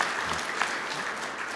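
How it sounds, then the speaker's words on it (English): Audience at a state trooper and dispatcher of the year awards ceremony applauding a foundation board member, a steady dense wash of clapping throughout with no talking. "applause will be fine"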